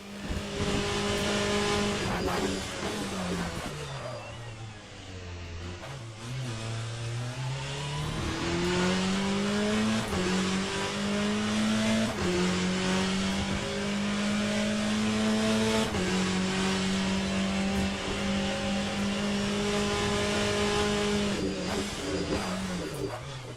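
A race car in Le Mans Ultimate, the sim racing game, roars continuously as it accelerates through the gears and brakes hard into corners, its engine pitch rising and dropping with upshifts and downshifts, loud and close with a faint tire squeal.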